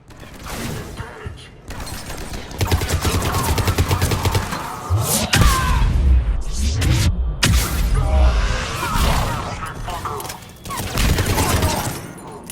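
Sustained gunfire from a firefight on Omega in Mass Effect 3, with loud bursts, thumps and booms, rapid repeated shots and occasional pauses, mixed with brief voices.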